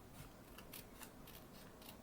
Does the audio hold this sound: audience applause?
no